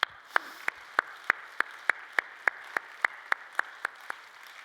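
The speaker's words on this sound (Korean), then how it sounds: "박수로 환영하겠습니다." A church congregation during a Sunday worship service claims steady, evenly spaced claps, about fifteen crisp beats in a slow regular rhythm, moderately near, with no talking over them.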